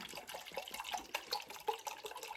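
Purified water poured from a container into a cup for homemade grape wine: a soft, continuous trickling splash with small gurgling bursts, fairly quiet and close, with no talking.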